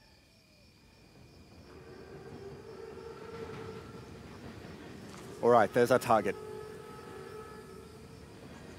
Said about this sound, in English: Train's right on time. Biggest train I've ever seen.